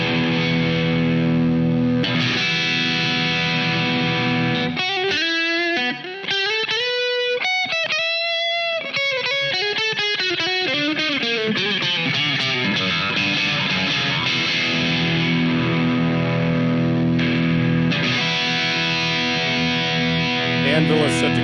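Electric guitar on the neck pickup in single coil mode, played through a distortion pedal into a clean Marshall JCM 800 amp sim, giving sustained, saturated chords and bending notes with a steady hum underneath, loud and continuous.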